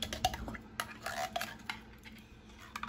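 A utensil stirs and clinks against a dish while ingredients for a cubed steak and gravy crockpot recipe are mixed, with close irregular scraping and tapping and no voices.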